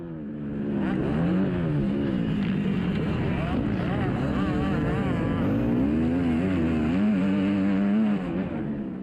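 Two-stroke dirt bikes, including a Yamaha YZ250, race bar to bar. Their engines rise and fall with shifting revs, loud and continuous, while a commentator talks over them.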